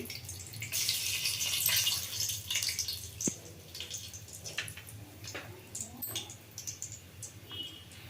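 Whole cinnamon and cloves tipped into a hot pan for rice bath, giving a steady hiss and crackle of spices hitting hot oil with a few sharp taps and clinks, close and moderately loud, with no talking.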